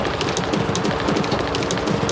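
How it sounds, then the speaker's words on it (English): A train rumbling through a tunnel in a video game, a loud continuous roar with rhythmic clattering pulses, close and unbroken throughout. "the train up ahead"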